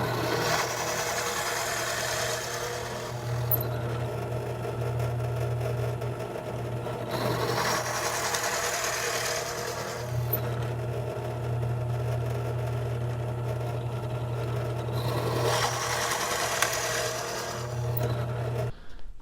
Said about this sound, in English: I'm going to put this in the drill press and show you how it works.